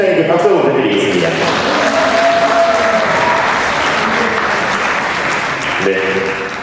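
Wedding guests in a hall at the Incheon Asiad Wedding Convention applaud the groom, a loud, sustained wash of many hands clapping with voices and a host's amplified speech mixed in.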